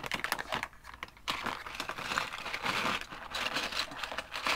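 Plastic bags holding Mould King building bricks crinkle and rustle close by, with steady crackling handling noise lasting the whole stretch and short dips between bursts.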